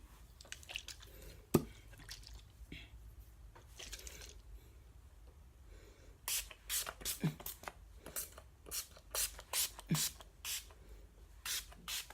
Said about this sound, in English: now I'm gonna spritz my face with my Wet n Wild setting spray.